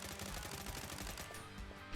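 Rapid gunfire from the horde shooter video game A Horde Wants To Kill You, a dense, continuous burst of fast automatic shots filling the whole moment at steady loud level, with no talking over it.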